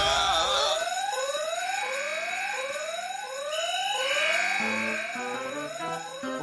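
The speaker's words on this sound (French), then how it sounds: "L'alarme a dû se déclencher toute seule." A fire alarm goes off indoors, repeated rising electronic sweeps in a fast regular pattern, then shifting to stepped tones, loud and with no talk.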